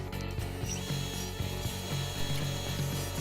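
Wood clamps ratcheting tight on freshly glued rings of wedges cut from a single 2x4, a steady run of close, repeated clicking and creaking strokes with a rubbing wooden texture and no talk.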